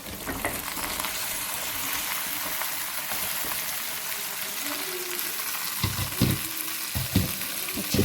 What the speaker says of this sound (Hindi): हमने धोया हुआ है, काटा हुआ है और इसको अब हम इसमें भून लेंगे